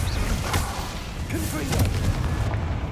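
Incendio fire spell cast in Hogwarts Legacy, heard as a steady roaring, whooshing rush of flame with thuds over a continuous low game rumble.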